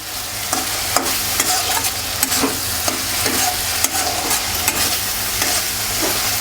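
Tomatoes stirred into a frying Katla fish curry pan, a steady sizzle under repeated scraping stirs with a spoon, close and fairly loud, no talking.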